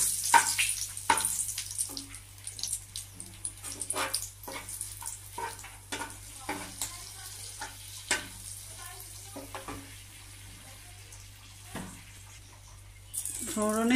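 Mustard seeds and three dried chillies sizzling in hot oil, heard as crackling pops and stirring scrapes at an uneven pace, close by, under quiet talk, with a louder burst at the end.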